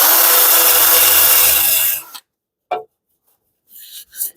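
Abrasive scrubbing on a rusty motorcycle part during derusting, a steady loud rasping rub for about two seconds, then stopping, followed by a few brief faint scrapes and knocks.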